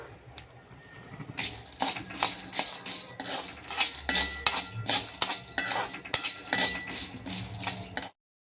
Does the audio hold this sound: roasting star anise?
yes